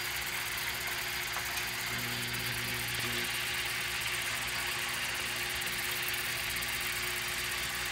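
A homemade Oasis lead shot maker machine runs fast and steady, giving off a continuous mechanical hum with a broad hiss and a low, faintly knocking drone, with no talk.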